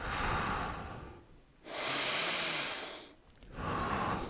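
Slow, deep yoga breaths close to the mic, two long broadband exhales or inhales separated by brief pauses, steady and unhurried with no talking.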